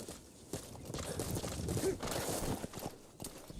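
Horse hooves clip-clopping in Metal Gear Solid V: The Phantom Pain, a soft uneven run of thuds fairly quiet under a dense game soundscape.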